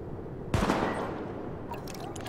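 Gunfire in the video game The Division, aimed at targets during a weapon test: a short burst of shots, fairly close, with a few quieter sharp cracks trailing after.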